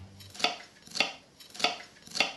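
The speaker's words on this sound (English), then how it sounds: "So we're going to start with some onions, which I'm going to just chop." Onions being chopped with a knife on a board for a lentil curry, four steady, crisp knife strikes about half a second apart, close and fairly quiet with no talking.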